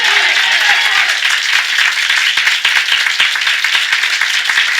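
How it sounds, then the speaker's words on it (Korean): A church congregation at a Sunday morning worship service claps together in praise, a loud, dense, continuous round of hand claps that holds steady from start to finish without talk over it. "믿는 모두 우리 하나님께 박수로 영광 돌리겠습니다."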